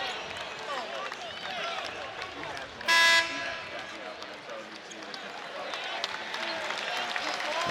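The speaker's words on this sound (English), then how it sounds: "listen to this round of applause for DJ Burns heading to the bench" A basketball crowd at a men's college game applauds DJ Burns as he heads to the bench. The clapping and cheering is steady and fairly loud, with a brief horn blast partway through and a commentator talking over it.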